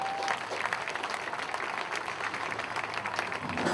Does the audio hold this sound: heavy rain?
no